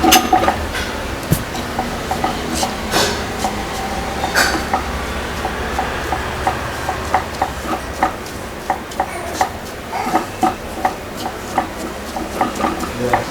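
Pumpkin salad tossed in a bowl with salt, a steady run of soft clinks and scrapes of a spoon against the bowl, repeating rhythmically at close range with no talk.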